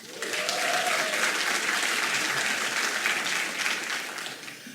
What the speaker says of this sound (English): So keep up the applause and the wooing.